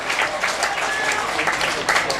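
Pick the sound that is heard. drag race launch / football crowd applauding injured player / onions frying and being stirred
football crowd applauding injured player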